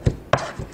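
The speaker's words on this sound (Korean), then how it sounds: "모아가면서 고기를 곱게 다지겠습니다." Raw meat being finely minced with a kitchen knife on a cutting board: three sharp, close chopping thuds at an even pace, with no talk.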